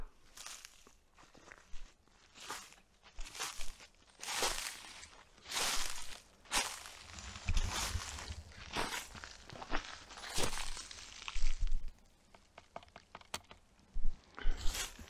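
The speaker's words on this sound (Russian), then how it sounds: "Под ногами хрустит трава." Slow footsteps crunch through frosty grass on an October morning by a taiga river, each step a dry crackling burst at an uneven walking pace, close by with no talking.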